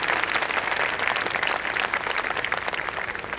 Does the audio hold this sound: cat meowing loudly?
no